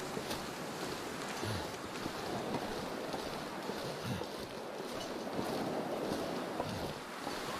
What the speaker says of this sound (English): This wind can screw off.